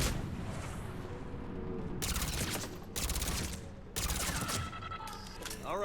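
SMG fire in Mass Effect 3 on PS3 comes in several dense, rapid bursts, loud and close, over a constant din of game combat noise and music.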